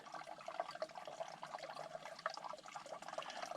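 Water running steadily into containers at a Florida campsite, a faint continuous trickle and splash with small bubbling ripples, no voices over it.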